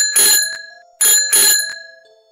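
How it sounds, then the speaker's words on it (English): Bicycle bell ringing close and loud in two pairs of bright metallic dings, each with a ringing tail that fades out. "It sounded almost like a bell on a bicycle."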